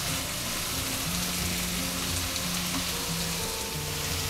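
Noodles stir-fried with crunchy vegetables in a hot pan give a steady, loud, close sizzle, a dense hiss without pause throughout.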